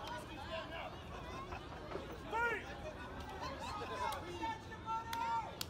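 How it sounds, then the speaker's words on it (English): Crowd murmur and chatter at a lucha libre wrestling show during TacoFest, a steady hubbub of voices with occasional louder swells, heard in the background around a commentator's talk. "Big crowd throughout the day here at TacoFest"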